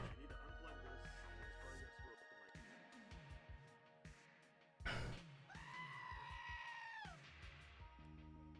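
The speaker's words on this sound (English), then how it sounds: "Love me some goat screams" Goat screams and bleats break out amid background noise, a loud harsh cry around the middle followed by a sustained wavering bleat, with other sounds continuing underneath.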